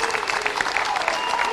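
Applause from a crowd at a Venezuelan political rally, steady dense clapping filling the whole stretch at moderate loudness, with no break.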